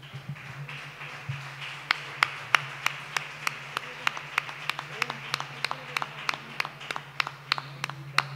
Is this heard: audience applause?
yes